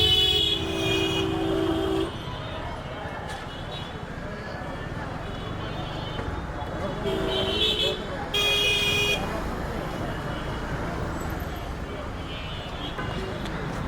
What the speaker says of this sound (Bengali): এই স্কুটারে 2টা হর্ন লাগানো আছে, বাট একটা হর্ন মাঝে মাঝে অফ হয়ে যায়, সে কারণে হর্নের সাউন্ড খুবই বাজে শোনায়।